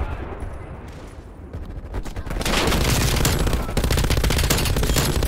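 Rapid sustained automatic fire from an MG 82 machine gun shot from the hip in Call of Duty: Cold War, a loud dense stream of gunshots that builds from scattered shots into continuous firing.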